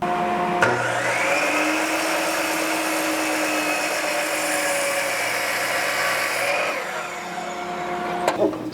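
A power tool trims a sixteenth of an inch off the edge of a wooden joiner's mallet head, a loud steady whine that starts abruptly, runs for about six seconds, then winds down, with a couple of clunks at the end.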